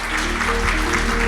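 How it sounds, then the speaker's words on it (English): Applause from a conference audience for AI industry panelists, a brief, dense burst of clapping with a steady low hum running underneath. "Round of applause to our panelists."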